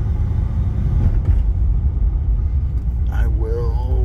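A 1989 Aston Martin Lagonda Series 4 accelerating on the road, its engine a steady, close, low rumble throughout, with a brief higher tonal sweep near the end.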